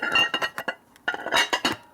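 A metal tool taps and clinks sharply on a bolt of a Harley-Davidson Twin Cam Dyna motor during a repair, with several quick bright strikes in two bursts separated by a short pause, close by.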